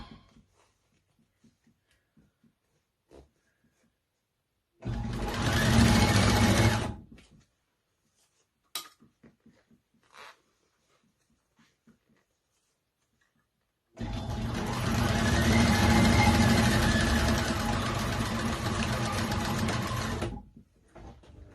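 A Cowboy CB6900 cylinder-arm industrial sewing machine top-stitches a zipper in two loud bursts, a short one and then a longer one, with clicks and quiet pauses between, on a table shaking against a wall.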